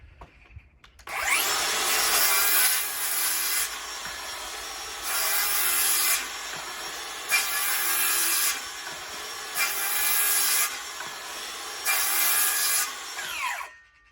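A DeWalt DCS573 cordless circular saw running on a FlexVolt battery cuts wood. Its loud, close, steady whine swells and eases in about six even cycles over roughly thirteen seconds, with no voices.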